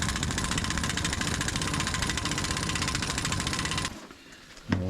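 A loud buzzing, rattling impact wrench spins a front wheel bearing nut on an Envoy/Trailblazer, hammering steadily for about four seconds before cutting off abruptly.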